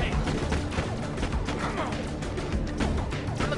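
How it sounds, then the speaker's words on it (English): Rapid, dense gunfire from many shooters in the video game Borderlands: The Pre-Sequel, a continuous loud barrage of overlapping shots with no clear gaps. "everybody was shooting at me"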